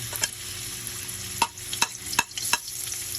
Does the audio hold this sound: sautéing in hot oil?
yes